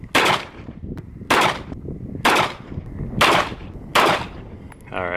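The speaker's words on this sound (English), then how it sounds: "Five shots in the center." Five loud, close gunshots fired at a Safe Vest 3A soft body armor vest, a level IIIa panel, each a sharp crack with a ringing tail, spaced roughly a second apart.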